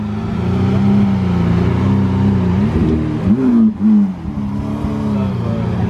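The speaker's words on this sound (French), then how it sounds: "2 Aventador qui arrivent, une SV et là-bas une normale." A pair of Lamborghini Aventador supercars, one an SV, drive past with a loud, deep V12 drone that rises and falls as they shift and rev. A brief dip and surge comes near the middle, and the sound stays close throughout.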